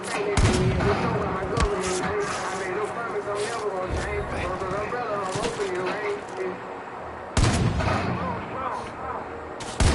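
Sniper rifle shots in a video game ring out as sharp, loud bangs spaced irregularly, a few close together and others seconds apart, under someone talking throughout.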